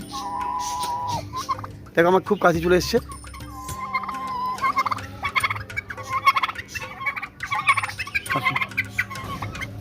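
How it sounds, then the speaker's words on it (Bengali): Several turkeys gobble at an ashram near Kolkata, loud rattling calls repeating close by in quick bursts, with a person talking briefly between them. "রয়েছে অনেক টার্কি এটা একটা মুরগি প্রজাতির পাখি টার্কি"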